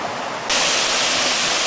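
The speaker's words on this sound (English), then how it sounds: "Behind me is North Fork Falls." North Fork Falls, a 20-foot waterfall along Coal Creek Trail, roars as a loud, dense, continuous rush of falling water that swells suddenly after a quieter opening moment and then holds steady.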